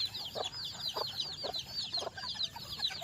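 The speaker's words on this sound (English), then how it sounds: "Give some to our bantam rooster" A bantam rooster clucks in a few short, repeated bursts close by, with chirping birds going steadily in the background.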